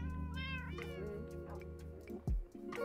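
A cat in Minecraft meows over a steady tonal music bed, with a short swooping sound near the end and no talking.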